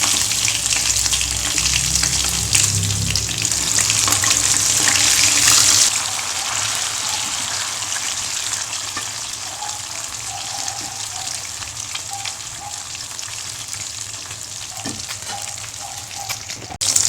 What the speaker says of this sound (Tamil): மீன் போட்டிருக்கேன். பொரிச்சிட்டு ஒரு நிமிஷம் கழித்து திருப்பி போடுவேன்